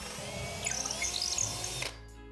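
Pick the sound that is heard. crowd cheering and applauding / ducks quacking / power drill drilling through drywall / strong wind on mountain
power drill drilling through drywall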